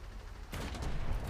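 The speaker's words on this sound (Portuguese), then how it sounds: "Bom, vou dar só mais um tiro só pra garantir." A tank fires a shot in the Roblox war game Magnata Da Guerra, one sudden booming blast after a quiet stretch, followed by a rumbling tail.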